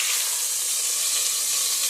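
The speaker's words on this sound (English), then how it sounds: "So just let it be and let it sizzle for about 4 minutes." Steady, bright sizzling of beef frying in a hot pan, a continuous crackle with no voices.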